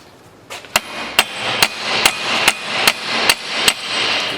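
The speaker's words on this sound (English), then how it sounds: "now you can put the nut and hammer the driving shaft" A hammer strikes the drive shaft of a Peugeot 407 during front suspension repair, eight sharp metallic blows at a steady, even pace, loud and close with a ringing tone between hits.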